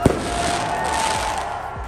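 Fireworks exploding outdoors: a sharp loud bang at the start, then a sustained crackling, rumbling wash with a steady whistling tone and further distant pops.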